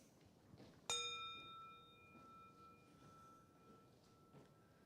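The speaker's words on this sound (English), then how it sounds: "we ring this bell before we start" A single bell struck once to open a worship service rings out clearly, its bright tone decaying slowly over several seconds against a quiet room.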